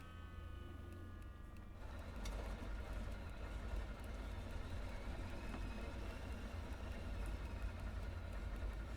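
The engines of a Ford Trimotor idle in a flight simulator game, a steady low drone with a faint whine that holds evenly throughout, with no talk over it.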